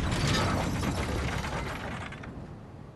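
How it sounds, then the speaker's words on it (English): Lever pulled in the video game Bloodborne, setting off a loud grinding mechanism of ratcheting gears and creaking metal that rumbles steadily, then gradually fades over about three seconds. "I can pull the lever despite it being invisible once I get down to its level"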